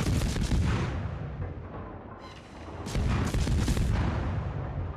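Naval gunfire in World of Warships, with heavy booming salvos rolling into long rumbling decays; one blast early on, then another big volley near the middle, loud and close with no talk.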